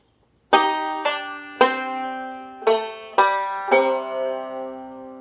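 Banjo picks out the last phrase of a song as six bright plucked notes and chords, each ringing and decaying before the next. It is close and solo, with no talk.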